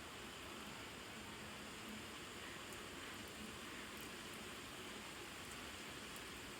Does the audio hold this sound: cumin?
no